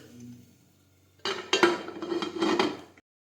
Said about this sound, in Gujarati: હવે આપણે કુકરનું ઢાંકણ છે તે બંધ કરી દઈશું.